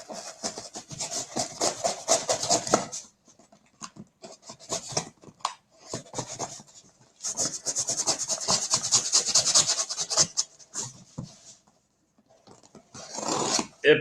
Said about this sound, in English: Epic box cutting skills, I know.